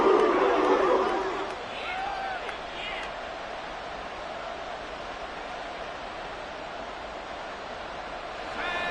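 A roaring football stadium crowd from a video game broadcast sustains a broad, steady wash of noise, with a brief tonal call near the start and a swell at the end.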